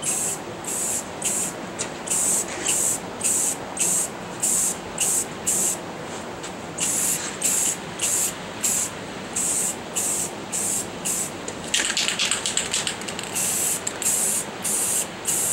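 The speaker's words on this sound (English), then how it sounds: "We're going to hit the brackets with some Rust-Oleum Gloss Black paint to match the rest of the bracketry under the seat." Aerosol spray painting of truck seat frame brackets with Rust-Oleum Gloss Black, a close hissing spray in rapid short bursts with brief pauses, repeated over and over without talk.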